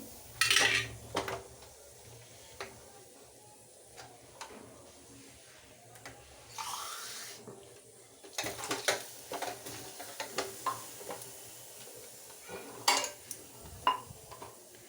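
Pots, utensils and the gas stove are cleaned up in a home kitchen after cooking, with scattered clanks, taps and scrapes of metal cookware, some sharp and close, between quieter stretches, with no talking.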